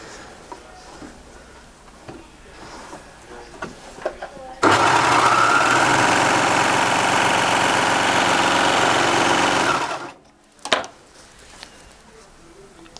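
A Babylock Imagine serger stitches through satin lining fabric with a loud, steady, fast mechanical whir for about five seconds, then stops abruptly; quieter handling noises and a voice come before and after.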